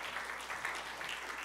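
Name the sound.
applause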